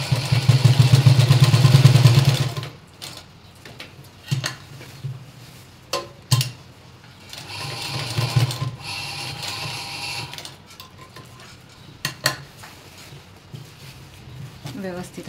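A sewing machine runs a finishing seam on a cotton gown, its loud rapid motor hum lasting about two seconds, then giving way to scattered clicks and handling clatter as a person talks.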